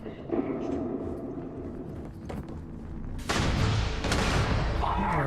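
Gunfire and explosions in the video game Starfield, sustained loud bursts and booms that intensify sharply partway through, dense and close.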